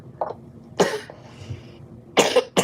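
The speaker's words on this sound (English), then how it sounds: "now he's coughing" A sick child coughs in sharp bursts, one early, then a pair of harsh coughs close together near the end, nearby in a quiet room.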